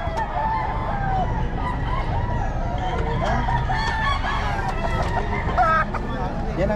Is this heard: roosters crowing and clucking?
yes